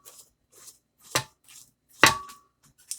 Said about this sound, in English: I'm just going to cut the fat on top.